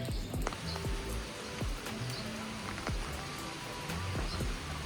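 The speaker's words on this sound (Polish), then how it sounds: "Deszcz pada." Rain falls steadily in the open countryside of Lombok, a continuous wash of patter with scattered heavier drops, fairly close and with no voices.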